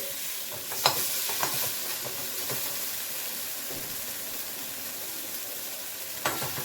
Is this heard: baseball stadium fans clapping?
no